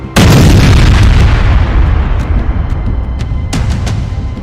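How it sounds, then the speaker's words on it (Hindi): Serial blasts at a weapons depot struck by a missile: a sudden massive boom followed by a sustained roaring rumble, with another sharp burst near the end, loud and without speech. "फिर सीरियल ब्लास्ट,"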